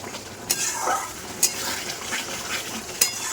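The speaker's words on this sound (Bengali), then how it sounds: "মশলা কষানো হচ্ছে মাটনের" Spices for a mutton curry being stir-fried in a pan, a soft sizzle under scraping stirs, with three sharp utensil clacks against the pan spaced a second or so apart, close and moderately loud.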